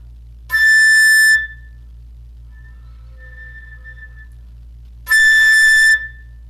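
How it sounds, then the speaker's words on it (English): Flute alternating between a normal played A and a soft whistle-tone A: two loud, sustained, harmonic-rich notes at start and end, separated by a thin, faint pure whistle tone, with a steady low hum underneath. "playing a normal A and then a whistle tone A"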